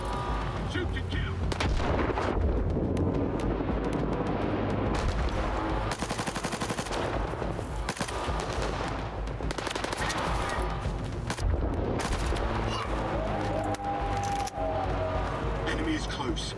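Gunfire in the shooter S.T.A.L.K.E.R. 2: Heart of Chornobyl, repeated bursts of automatic shots and heavy booms rattling on through a long firefight, mixed with in-game voices and talk.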